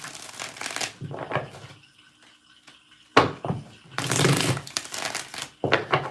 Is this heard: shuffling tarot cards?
yes